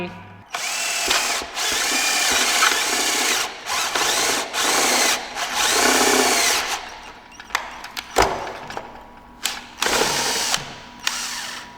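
A step drill bit whines loudly as it bores into plastic, running in long bursts broken by pauses, then short stop-start spurts toward the end.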